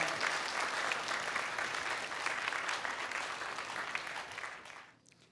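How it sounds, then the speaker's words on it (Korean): A church congregation gives a sustained round of applause in a worship hall, dense and steady before tapering off and stopping near the end. "박수 한번 주시면 감사하겠습니다."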